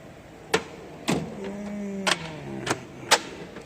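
A metal toolbox drawer holding electrical tools slides open on its runners with a smooth rolling rumble, punctuated by several sharp clicks and knocks, close and fairly quiet.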